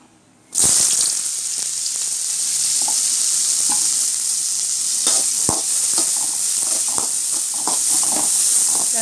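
Sliced onions hit hot oil in a pan with a sudden loud sizzle that settles into a steady crackling hiss, with occasional stirring scrapes and pops, close up, while cooking kuppai keerai koottu.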